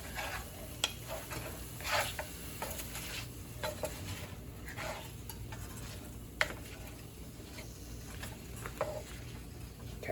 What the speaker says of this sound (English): Just stir fry that after you get the olive oil in there.